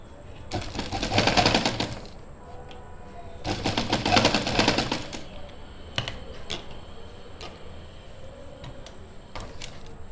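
A sewing machine stitches buckram for a suit, running in two long, steady bursts of rapid needle clatter, followed by scattered clicks and short taps as the fabric is adjusted.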